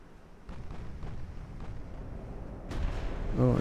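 Naval gunfire from an ironclad monitor in the Ultimate Admiral: Dreadnoughts warship game, heard as a muffled rumbling boom that swells toward the end over a low constant background, moderately loud.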